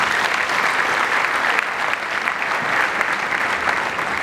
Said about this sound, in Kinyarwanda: dukomere Imana amashyi menshi